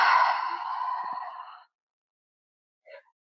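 A deep, slow exhale through the nose during a vinyasa yoga flow, loud and close for about a second and a half, followed by silence and a brief faint breath.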